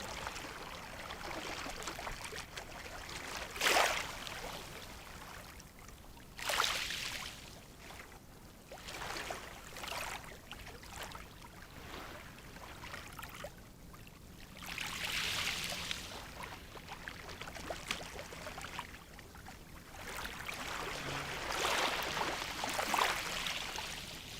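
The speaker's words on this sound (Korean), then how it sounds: "이제 집중을 호흡에서 파도 소리로 옮겨봅니다." Ocean waves wash in softly and at a distance, surging and receding in several slow swells with a hissing, trickling fizz between them.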